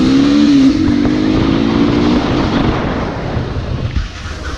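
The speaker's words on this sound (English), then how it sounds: "now we'll be seeing the acceleration of this bike" A Hero Xtreme 200S motorcycle revs up loudly and rises in pitch through the first couple of seconds. The roar then fades into a rough rumble, as if the bike is pulling away from a close position.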